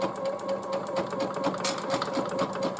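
Sewing machine stitching an appliqué onto a T-shirt, a steady fast mechanical whirr with a rapid needle rhythm running continuously and close, without talk.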